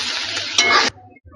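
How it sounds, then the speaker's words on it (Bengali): Fried soybean chunks stirred in a pan for soybean biryani: a steady scraping, sizzling wash with a sharper clatter of the spoon against the pan midway, then it stops abruptly and leaves quiet low hum. "লাড়াচাড়া করে দিব।"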